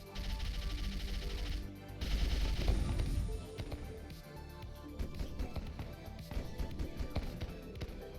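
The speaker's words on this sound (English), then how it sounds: "there also is rockets going off everywhere" Dense, loud gunfire and rocket blasts from a space shooter video game featuring robot cowboys, with rapid overlapping shots and heavy booming explosions forming a continuous barrage with no voices.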